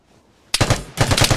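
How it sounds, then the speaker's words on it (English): RPK machine gun firing in the video game Vigor, two quick bursts of rapid shots, loud and punchy with no talk. "Sounds like this guy is an RPK."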